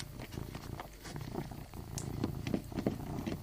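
A black cat purrs while being petted, a soft, close, rhythmic rumble of repeated breaths with no talking over it.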